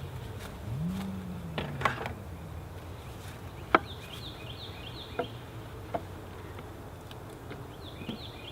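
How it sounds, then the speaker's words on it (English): Honeybees buzzing around a hive during a swarm check as a nuc is reconfigured into a deep brood chamber, a steady low drone punctuated by a few sharp clicks and knocks from hive handling. "these bees aren't the happiest"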